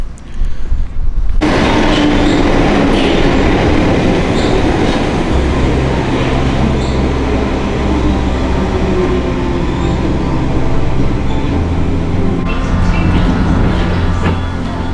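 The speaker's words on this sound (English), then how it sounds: "Please mind the gap between the train and the platform." A London Underground train rumbles loudly at a platform at Osterley, with dense low rolling noise, metallic clatter and faint squeals continuing close and steady throughout, with no talking.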